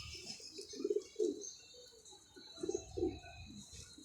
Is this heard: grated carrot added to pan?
no